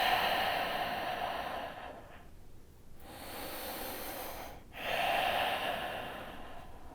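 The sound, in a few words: deep breathing during yoga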